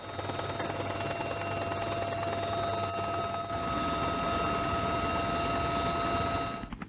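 A steady drone of MH-60 military helicopters with a constant whine and rumbling rotor noise, loud and continuous, cutting off abruptly at the end.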